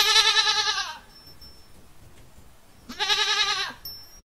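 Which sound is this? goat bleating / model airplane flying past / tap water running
goat bleating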